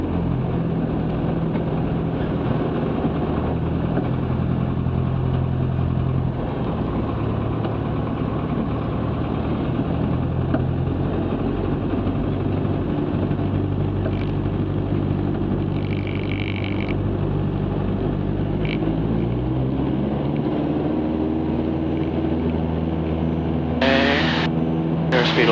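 A Cessna Skycatcher's engine drones loudly and steadily through the takeoff roll at Palo Alto, with a constant low-pitched hum, a few brief radio or cockpit noises, and a rising whine near the end.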